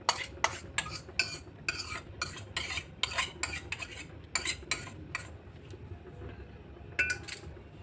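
A spoon clinks repeatedly against a bowl while cornflour is scooped in for a restaurant-style chilli fish batter. The taps are close, bright and quick, come in a steady run, then fall quiet before one last clink.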